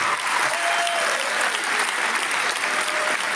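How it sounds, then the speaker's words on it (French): An audience in a hall breaks into steady, dense applause for a women's handball team at a champions' trophy ceremony, the clapping sustained and even throughout. "Et on applaudit, s'il vous plaît, nos handballeuses."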